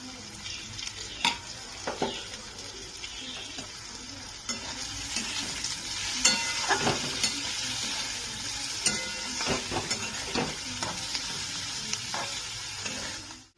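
Onion with salt, turmeric, a little sugar and chilli powder frying in oil for a katla fish chorchori, a soft steady sizzle with repeated close spatula scrapes and taps against the pan, no talking.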